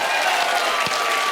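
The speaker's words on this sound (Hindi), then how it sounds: "इसके लिए भी तालियां बनती हैं।" Dense, continuous applause from a large studio audience at The Kapil Sharma Show, a steady wash of clapping with no individual claps standing out.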